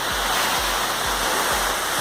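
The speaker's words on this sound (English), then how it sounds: "Artificial waterfall." An artificial waterfall in a fountain park in Naypyidaw, Myanmar, roars continuously, a loud, dense rush of falling water with no voices over it.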